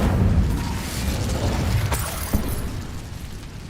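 Incendio fire spell cast in Hogwarts Legacy, a loud whooshing burst of flame with a heavy low rumble, fading out, and a sharp crackling pop near the middle, with no voices.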